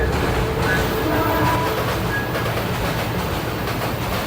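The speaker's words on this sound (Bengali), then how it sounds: "এক বিশাল বড় ট্রেন আসছে, প্রচন্ড সাউন্ড হচ্ছে।" Loud, steady rumble of a large train rolling across the British-era Ghatina railway bridge in Ullapara, a dense roar with faint high metallic squeals over it.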